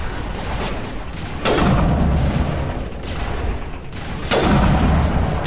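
Gunfire in the video game Mass Effect shoots at the player in loud, dense bursts, with two heavier booming volleys breaking through a constant rattle.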